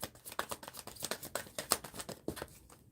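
Tarot cards being shuffled by hand, a quick run of soft papery riffles and slaps in an uneven rhythm, close and quiet, with no talking.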